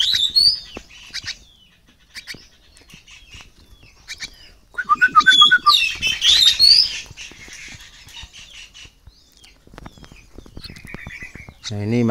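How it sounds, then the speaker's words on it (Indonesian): Young wild birds kept and hand-reared outdoors, including three fledglings taken from a tree hollow, give scattered chirps and tweets, with a denser burst of calls midway, under occasional talk. "Ini dia burung rawatan baru kita bosku."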